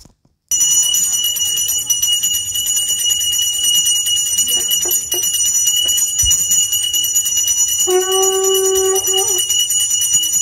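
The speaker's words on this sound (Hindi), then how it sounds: "घंटी और शंख का आवाज़ सुनिए।" Ritual bells ring continuously and close during a Saraswati Puja, with a conch shell blown in one sustained tone for about a second near the end over the ringing.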